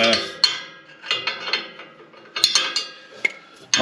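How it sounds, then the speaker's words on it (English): A box wrench turning a bolt on a set of tines gives a close run of irregular metallic clicks and clanks, some sharper and louder than others, with no talking. "You have to use a box wrench on this one"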